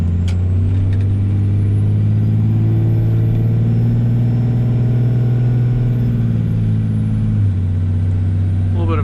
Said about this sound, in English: Turbo's real loud though